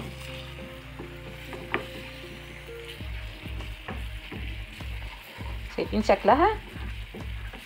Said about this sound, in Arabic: نقلب بسرعه ونخلي بالنا عشان الشطه ما تتحرقش